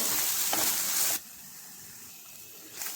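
Masala paste frying in a pan over a low flame, a loud, steady sizzle that drops suddenly to a soft hiss, then swells briefly near the end.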